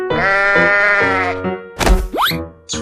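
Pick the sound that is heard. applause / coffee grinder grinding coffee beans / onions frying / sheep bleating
sheep bleating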